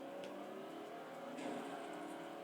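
Racing cars in the Forza video game, a steady engine drone and whir with a sharper surge of revving partway through, close and continuous with no voices.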